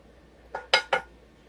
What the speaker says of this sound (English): wooden spoon here. Get that oil mixed in there.